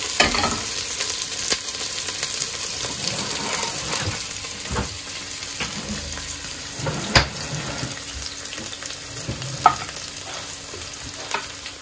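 Onion and chili sauté in a pan with a steady close sizzle and the scrape of stirring throughout, a few sharper clinks breaking through, and faint running water behind.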